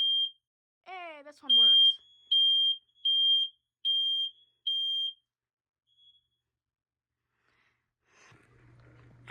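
Home smoke alarm under test gives a short burst of shrill chirps, then five loud, evenly spaced piercing beeps close by, followed by quiet and a faint low hum; a person speaks briefly near the start.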